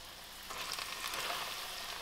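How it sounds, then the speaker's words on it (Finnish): Breaded chicken sizzles steadily in a hot frying pan, a bright crackling hiss that swells after the first half second and keeps going without any talk. "Sitten voitaisiin paistaa nämä kaikki."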